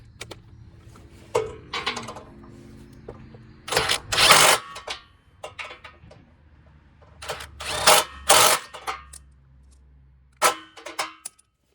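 Radiator bolts on a Nissan are tightened with a tool in several short, sharp mechanical bursts, separated by quiet pauses of varying length, close and fairly loud.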